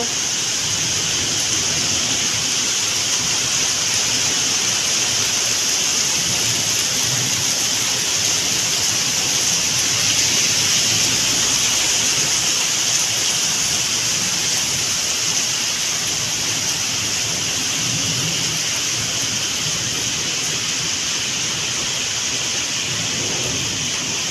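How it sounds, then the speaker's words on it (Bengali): Heavy rain with hail pours down in a steady, dense roar that holds at the same loud level for the whole stretch, with no voices over it. "এই বৃষ্টি।"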